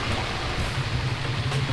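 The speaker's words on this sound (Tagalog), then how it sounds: "Umaambon." A steady hiss of light drizzle is heard during a motorcycle ride toward DRT and Norzagaray, in even, continuous noise with no voices.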